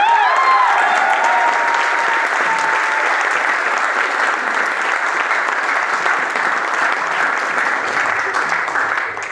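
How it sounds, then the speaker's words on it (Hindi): A meeting audience applauds loudly and steadily for about nine seconds, a dense sustained clapping that fades slightly at the end. "तो आपके खुद के लिए एक बार तालियां बजा दीजिए।"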